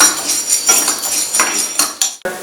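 A cup of black peppercorns frying in hot ghee for pepper chicken biryani, popping and spluttering in sharp, loud, irregular crackles close by, with no talking.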